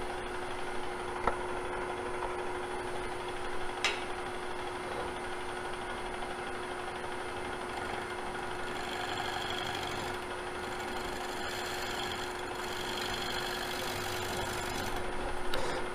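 A wood lathe spins steadily at 728 rpm while a gouge turns a piece, giving a constant, fairly quiet mechanical hum with a faint steady whine and occasional small ticks.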